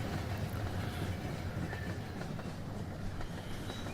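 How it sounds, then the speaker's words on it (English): A model train running in the VR railroading game Rolling Line gives a steady low rumble with faint rhythmic clickety-clack of wheels on track, continuous and fairly quiet. "Let's check out the detail of a train."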